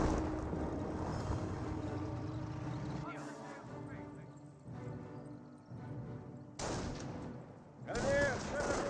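Rifle and small-arms fire hits German grenadiers in a Company of Heroes 1 battle against US riflemen. Scattered shots and distant booms sit under continuous commentary.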